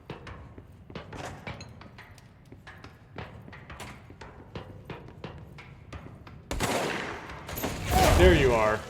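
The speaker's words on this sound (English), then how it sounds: "Firing over there." Rapid gunfire in the action game Control: a long string of sharp, evenly spaced shots, then a louder, denser stretch of blasts and roaring noise toward the end.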